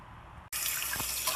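Tap water runs steadily into a sink during the soap-and-scrub-brush cleaning of a sticky 1970s Chevy Blazer steering wheel, a near, continuous splashing rush that starts abruptly after a short quiet moment.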